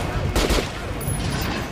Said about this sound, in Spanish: ¡Dispara al muñeco en la cabeza!